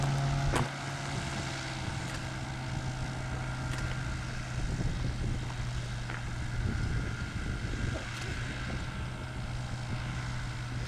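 A small airplane in flight, ultralight type, with a steady loud engine drone and propeller hum filling the cabin, constant and close with no talk.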